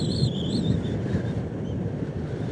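Ocean surf rolls steadily at Pantai Pacar beach in Tulungagung, a continuous low wash of waves mixed with wind buffeting the microphone, with no talk over it.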